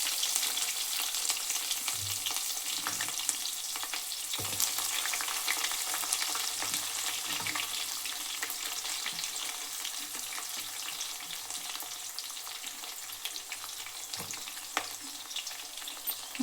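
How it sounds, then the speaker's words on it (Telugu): Onions fry on a low flame, a soft, continuous crackling sizzle with occasional faint stirring taps, quiet and close throughout with no voices. "స్టవ్ని లో ఫ్లేమ్లో పెట్టుకొని ఫ్రై చేసుకోవాలి ఫ్రెండ్స్"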